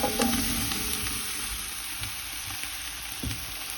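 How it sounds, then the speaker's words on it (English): Potatoes with garlic frying in a very hot pan for caldo verde, a steady close-up hiss and sizzle with faint stirring scrapes and no talking. "the pan is super hot, so it's not going to be on very long at all. I'm going to add the potatoes very soon. All right, adding the potatoes."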